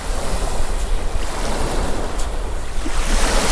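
Ocean waves wash over an agate beach, a loud, continuous roar of surf churning the rocks, with wind buffeting the microphone.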